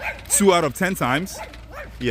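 A dog gives a few short, yelping barks close by, mixed in with a voice as he talks over them.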